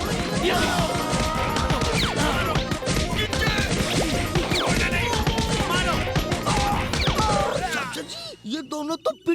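A Chacha Bhatija cartoon beating of two characters: dense, loud barrage of comic smashes, whacks and thuds with shouting voices, fading to a few scattered hits at the end.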